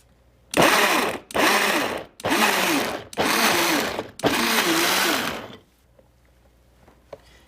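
A Vitamix Professional Series 750 blender pulsing tomatoes, five loud motor bursts of about a second each with short gaps, then quiet with faint clicks.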